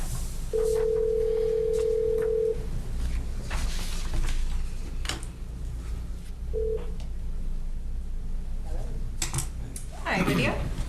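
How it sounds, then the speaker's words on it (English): A steady telephone tone sounds for about two seconds while a phone is called during a Westford, Massachusetts conservation commission meeting, followed by a short beep, with keyboard-like clicks and faint room talk throughout. "We're going to just call her phone."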